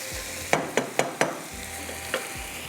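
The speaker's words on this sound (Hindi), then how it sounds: "इसको तेज़ आग पर हम भूनेंगे इस तरह से।" Mutton pieces fry over high heat for galawati gosht, a steady sizzle broken by several sharp scraping stirs of a spoon in the pan, close and alone.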